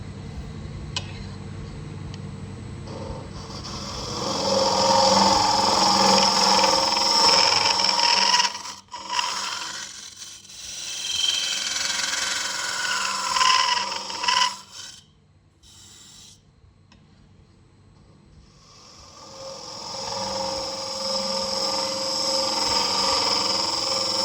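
A wood lathe hollows the inside of a colorful wooden goblet, giving a loud, rasping scrape from the cutting tool. The scrape breaks off briefly a few times and then resumes.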